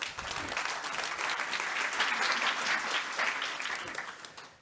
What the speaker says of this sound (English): we just heard the applause for the LUMI AI Factory